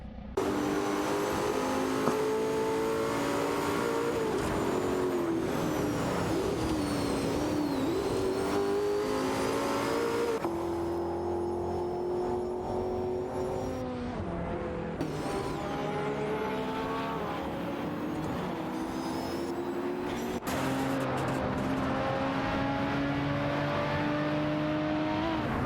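Race cars in a video game race roar continuously with high revving engines, shifting pitch through gear changes and accelerations, several cars layered close together, loud and steady with no talking.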